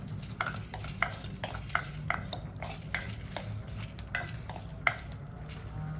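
Whole unpeeled garlic cloves roasting in a clay pot, a soft dry sizzle under repeated light scraping and stirring strokes, close and fairly quiet.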